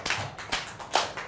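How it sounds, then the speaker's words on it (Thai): A primary-school classroom claps briefly for two students during a maths lesson on estimating length, a few sharp, separate claps spread over about a second, fairly close and with no talk. "ปรบมือให้เพื่อนๆ2คนนี้หน่อยครับ"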